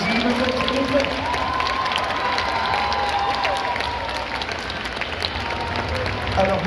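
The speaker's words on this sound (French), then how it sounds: "je vous demande un tonnerre d'applaudissements pour les comédiens" Theatre audience in Lyon applauding the actors after a call for a thunderous round of applause, a dense sustained wash of clapping with some crowd noise, steady and close throughout.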